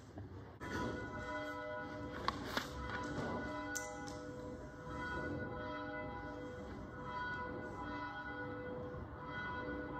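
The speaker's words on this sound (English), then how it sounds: "The ringing of the bell." A church bell rings at a worship service with steady, sustained tones that hum and overlap, with a couple of sharper strikes early on, fairly distant and reverberant.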